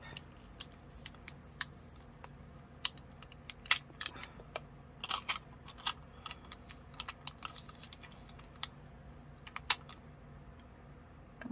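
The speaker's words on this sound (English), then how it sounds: "now they're cured and I can remove them from the tape" Cured UV resin heart charms are peeled and popped off tape, giving scattered small crackles, ticks and sharp clicks close-up, irregular and quiet, with no talking.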